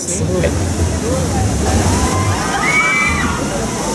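Water sloshes and splashes continuously on the Tiki Splash log flume ride at PortAventura on a hot day, while a crowd murmurs and people talk nearby.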